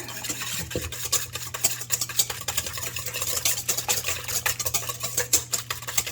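Sour cream being whisked into mashed potatoes, a rapid irregular scraping and tapping of a whisk against a bowl, continuous and fairly close, with a low steady hum underneath.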